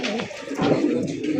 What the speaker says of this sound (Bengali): ব্লাড লাইনের, খুব ভালো মানের কবুতর, পুরান কবুতর।